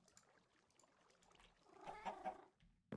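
A hungry cat in a Minecraft-style game meows in a soft, short burst near the end, faint and close, with light game clicks before it.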